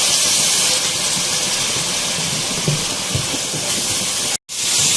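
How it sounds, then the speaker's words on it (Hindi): Garlic-ginger paste frying with onions for Mughlai chicken handi: a steady, loud, broadband sizzle and hiss that carries on without a break, with no voices over it. "लहसुन अदरक का पेस्ट डाल के भी हमें इसे अच्छे से फ्राई करना है"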